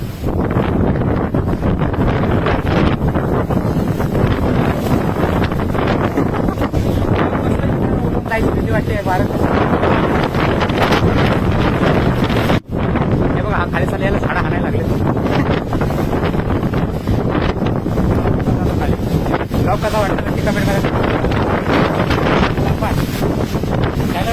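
Strong, gusty wind before rain in a village in Marathwada, a loud continuous roar buffeting the microphone for the whole stretch, with one brief dropout midway and no clear speech.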